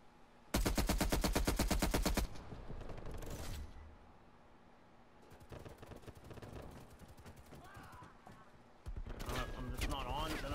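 Rapid automatic gunfire from the video game Call of Duty: Black Ops Cold War, a loud sustained burst followed by more scattered bursts, with a player's voice talking over parts of it.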